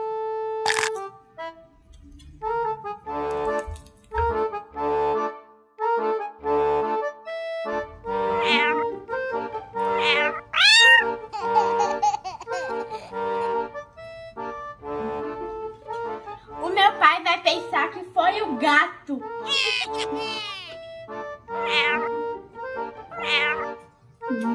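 A cat meows repeatedly, clear and close, in a pretend-play scene at home with spilled popcorn, with short pauses between the calls and some rising, drawn-out cries later on.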